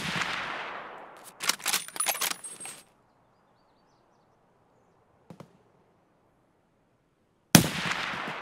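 A newly acquired gun fires in the shooter game Escape From Tarkov: a rapid cluster of sharp shots, then near silence, then another loud burst at the very end, with no talking.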